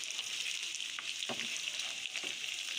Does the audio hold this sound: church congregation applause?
no